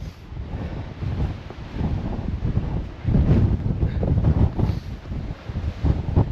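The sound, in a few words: strong hurricane wind on Arthur's Seat hill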